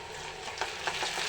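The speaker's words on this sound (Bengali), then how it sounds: "তেলের সাথে একটু ভাজা নিই।" Shrimp sizzles in hot oil while being fried for noodles, a steady crackling hiss with a few sharper spatters, close and fairly loud.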